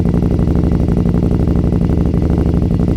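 A three-wheeler motorcycle with a V-twin engine idling: a loud, close, continuous throbbing rumble with a steady pulsing beat and no voices over it.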